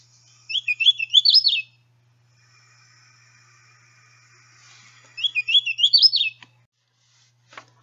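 Hooded warbler song: two bright, whistled phrases of quick rising and falling notes, each about a second long, separated by a few seconds of near silence, with a faint click at the end.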